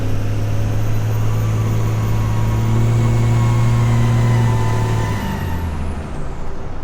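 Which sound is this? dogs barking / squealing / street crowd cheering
squealing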